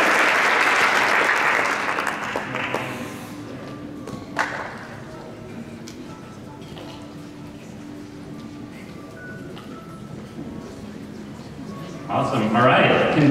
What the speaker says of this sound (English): Okay, so we'll give them all a round of applause here.